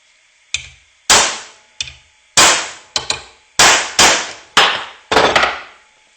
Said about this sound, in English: I'm going to use the anvil that's on the back of my vise, a punch,